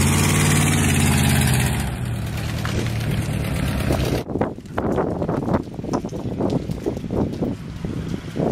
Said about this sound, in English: Look at the engine while she's running.